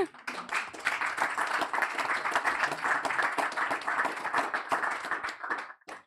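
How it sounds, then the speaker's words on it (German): Brief audience applause at a political talk event, a close, even burst of many hands clapping for about six seconds before stopping abruptly. "kurzer Applaus"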